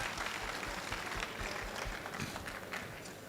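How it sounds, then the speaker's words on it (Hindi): Audience in a large hall applauding winners at a university event, a dense, even patter of many hands clapping at moderate distance. "सभी विजेताओं के लिए ताली होनी चाहिए।"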